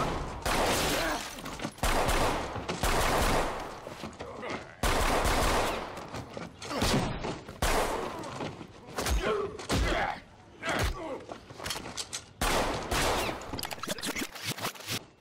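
Gunfire in an action film shootout sequence, with bursts of shots spread through a dense, loud mix of effects and score; voices come in over parts of it.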